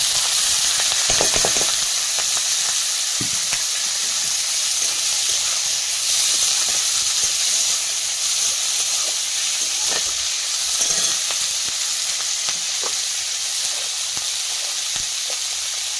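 Freshly picked greens and potatoes fry in oil with garlic, making a steady close hiss and sizzle that runs throughout, with occasional soft clicks of stirring.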